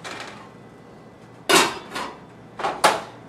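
A pan of green beans is set back on a stove with several sharp metallic clanks and knocks close by, the first loudest, following a quiet stretch.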